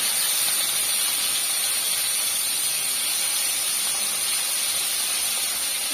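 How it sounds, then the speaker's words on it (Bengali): Tilapia frying in hot oil in a village kitchen, a loud, steady, dense hiss and sizzle running unbroken throughout with no talk. "এবার মাছটা নিয়ে আসি, মাছটা ভাজবো।"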